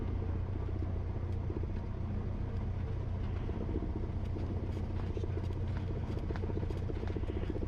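A Cessna 172 Skyhawk taxis off runway 31 onto a taxiway, its engine giving a steady, loud, continuous low drone and rumble with propeller throb throughout, no talking.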